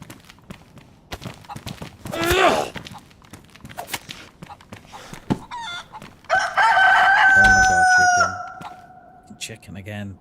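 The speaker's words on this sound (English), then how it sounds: "Chicken again. Listen to him." Chickens in the video game DayZ, a rooster letting out two drawn-out crows between scattered clucks and rustling footsteps, fairly close and clear.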